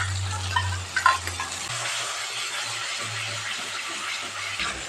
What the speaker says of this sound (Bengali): টক দইটা দিয়েও মশলাটা খুব ভালো করে কষিয়ে নিতে হবে